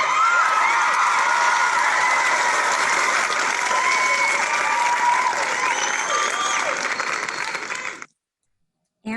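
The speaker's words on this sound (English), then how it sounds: "Let's give Ann a round of applause." Sustained applause with some cheering from an audience honoring an award recipient at a Citizens of Achievement 2020 ceremony, steady clapping for about eight seconds before cutting to silence.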